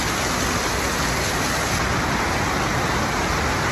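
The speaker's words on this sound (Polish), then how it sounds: "A tam leje" Heavy rain pouring outside, a dense, loud, unbroken hiss that fills the whole moment with no letup.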